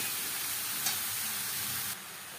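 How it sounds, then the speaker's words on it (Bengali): Ridge gourd and spices stirred in a frying pan, giving a steady close sizzle with soft scraping throughout, then dropping a little quieter near the end. "মশলার সাথে ঝিঙে বেশ ভালো করে মিক্স করে দেবো।"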